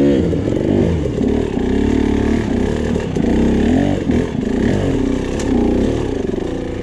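A dirt bike engine racing in King of the Motos 2020 labors and revs hard while the rider struggles for traction over rocks and soft sand, loud and close, with continuous wavering pitch.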